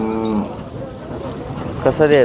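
A bull lows briefly at the start and again near the end, with a busy crowd murmuring throughout at the Sangola cattle market.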